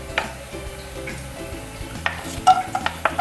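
Ginger dropped into the oil left from cooking chicken and fried, a soft sizzle broken by sharp clicks and scrapes of stirring in the pan, heard close with no talking.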